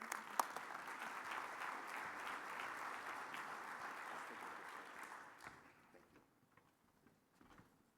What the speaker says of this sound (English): give another round of applause to our two award winners